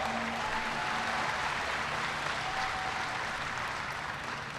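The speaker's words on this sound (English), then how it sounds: "Give Dave a big round of applause." A large crowd at a clean energy event with President Obama gives a sustained round of applause, dense and steady clapping filling the hall throughout, fading slightly at the end.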